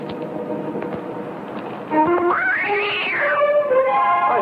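A puma in a 1961 film lets out a long, rising and falling yowling cry over steady background noise, loud and close.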